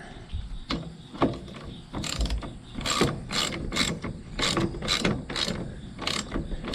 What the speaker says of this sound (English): putting a nut on down there in the darkness